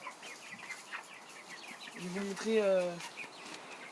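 Silkie chickens in a backyard coop, with a solitary rooster nearby, give soft clucks and one louder drawn-out call while someone speaks quietly over them.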